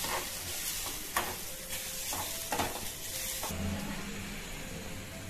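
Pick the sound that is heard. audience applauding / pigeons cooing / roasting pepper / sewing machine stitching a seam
roasting pepper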